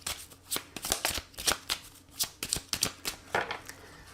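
A tarot deck is shuffled and cut by hand, a quick run of crisp riffling card flutters and soft taps in irregular bursts, close and fairly quiet, with no talking.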